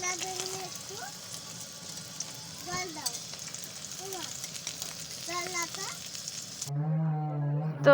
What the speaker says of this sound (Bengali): এই যে দেখো মাছ আমার ভাজা কমপ্লিট হয়ে গেছে